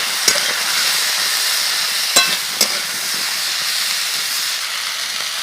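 Potatoes and green beans frying in a pan, a loud steady hiss of sizzling oil broken by a few sharp spatula clanks as the pieces are stirred, close up with no talk.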